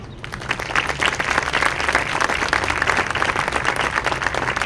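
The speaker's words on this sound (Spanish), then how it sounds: "Tomás, por favor, un aplauso." Sustained applause from an audience at a public event defending public education, a dense, steady wash of many hands clapping close by that holds throughout without fading.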